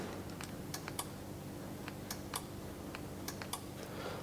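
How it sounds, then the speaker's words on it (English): A quick run of sharp, dry clicks, irregular and close, from the keyless entry relay chattering on a Ford Crown Victoria Police Interceptor as the trunk release fails, over a faint steady hiss. "You hear the relay clicking, but the trunk pop doesn't work."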